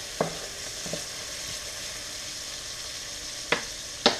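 Onions and scallions frying in oil over high heat, a steady close sizzle broken by a few sharp knocks of a spoon against the pan.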